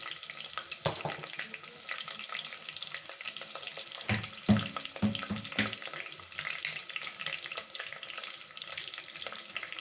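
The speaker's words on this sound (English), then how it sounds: "As the onions are frying" Onions sizzle steadily in a hot pan as a Kerala-style home lunch is cooked, with occasional scraping and clattering from stirring, loudest midway through, and no talking.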